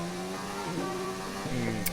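A Formula 1 car in F1 2019 at the Bahrain Grand Prix revs and accelerates with a rising high engine whine and gear shifts, loud and continuous, with a French voice talking over it.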